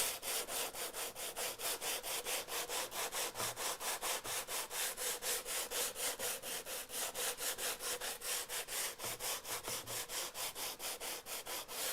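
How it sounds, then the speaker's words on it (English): Steady back-and-forth hand sanding over a painted, stencilled wooden chest of drawers, rapid regular rasping strokes repeating close and even throughout with no talk. "I'm going to stand up and sand."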